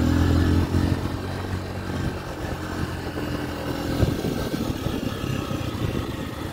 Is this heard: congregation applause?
no